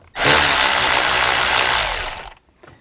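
A power tool with an 8mm socket spins loose a worm clamp on the air intake snorkel of a 2000-2006 Chevy Tahoe. It gives one close, loud, steady whir lasting about two seconds before stopping.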